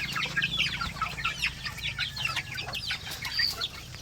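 Native chickens at feeding time: a flock clucking and chattering close by in overlapping calls, with brief wing flaps amid a steady farmyard murmur and no talking.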